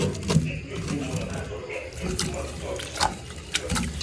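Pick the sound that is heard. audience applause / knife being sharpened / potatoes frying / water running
water running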